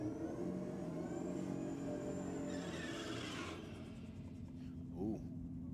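A turbocharged green metallic LC GTR race car revs hard at a drag racing shootout; the engine note rises, then a fluttery wastegate chatter follows as the throttle lifts, with crowd and commentary voices running under the steady engine roar.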